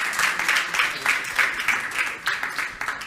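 Audience clapping at a virtual university event, a moderately loud burst of applause with a pulsing, slightly rhythmic texture lasting a few seconds.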